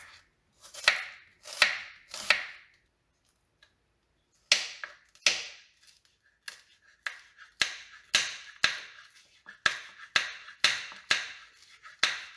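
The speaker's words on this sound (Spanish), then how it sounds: "Ahora picaremos el tomate, la cebolla y el chile en cubos." A knife chops onion into cubes on a cutting board for guacamole, with sharp rhythmic thuds in two runs: a few spaced strokes, a pause, then a quicker steady series of close, crisp chops.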